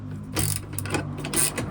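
Hand tools drive screws into a bracket on a Thule slide-out electric step, giving faint, close clicking and ratcheting in short bursts with small scrapes between them.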